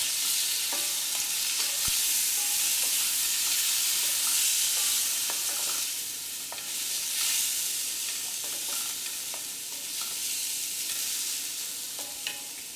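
Washed rice and moong dal for Bengali khichuri sizzle steadily as they are stirred in a hot pan, a continuous frying hiss broken by soft scraping strokes, close and alone without talk.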